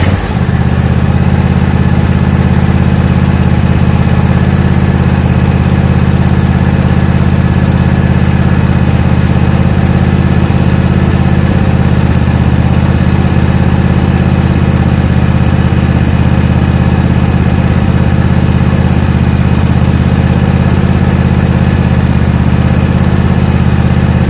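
A John Deere E180 riding mower idles steadily, its engine a constant, close, unbroken drone with no voices.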